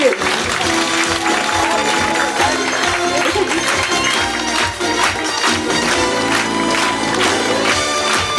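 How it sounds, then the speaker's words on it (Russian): An audience at a gala concert of a Russian folk song contest on Sakhalin applauds at length, a full, sustained wash of clapping with a crowd murmur and scattered cheers mixed in. "Аплодисменты!"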